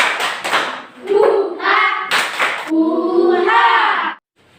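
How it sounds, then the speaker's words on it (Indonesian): A classroom group performs a rhythmic spirit clap, sharp bursts of claps in a patterned beat mixed with chanted voices, loud and close. "Tepuk semangat."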